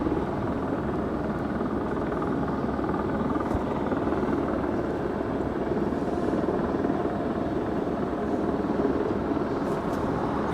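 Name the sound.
airplane taxiing to the hangar at LAX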